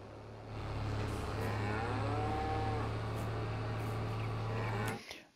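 Cattle in a Farming Simulator 22 barn give one long, drawn-out moo over a constant low mechanical hum, then it cuts off abruptly near the end.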